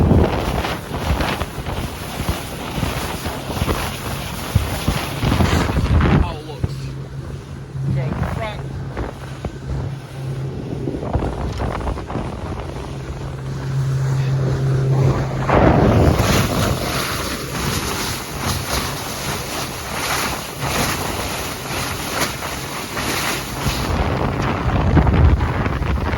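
A 2021 Quintrex 510 Freestyler boat running and turning on water, with steady engine drone, wind buffeting and hull slap against waves, a voice talking over parts of it.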